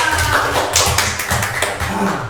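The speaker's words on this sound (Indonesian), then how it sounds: "Tepuk tangan dulu dong." Hand clapping by a classroom of students, a dense, lively burst of many hands at close range, loud and continuous for a couple of seconds with no talk.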